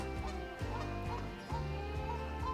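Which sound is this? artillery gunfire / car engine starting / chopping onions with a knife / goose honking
goose honking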